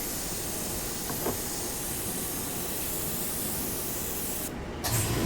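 Airbrush spraying white paint for a white-on-white dragon artwork, a continuous close hiss of air and paint that runs steadily, with a brief pause and a small bump near the end.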